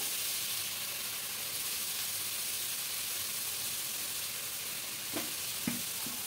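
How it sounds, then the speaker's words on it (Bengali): Chilli powder, turmeric and salt sautéing in hot oil for a cabbage and coconut dish, a continuous close sizzle and hiss, with a couple of faint knocks from a spoon near the end. "দিয়ে একটু মশলাগুলোকে কষিয়ে নেব"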